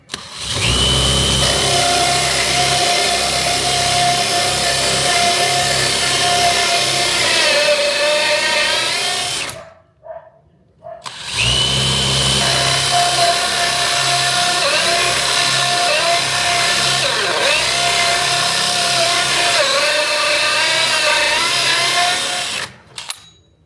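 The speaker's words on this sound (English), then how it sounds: "It's a 2-inch hole saw. Just make your marks, then drill almost all the way through." A power drill with a 2-inch hole saw grinds steadily through the wood of a barrel sauna, a loud sustained whine in two long bursts separated by a brief pause.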